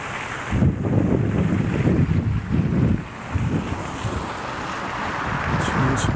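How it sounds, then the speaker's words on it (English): Strong wind buffets the microphone outdoors in Chicago, a loud, continuous rumbling roar with gusty swells that dips briefly midway before picking up again. "I gotta wait for the wind to die down here"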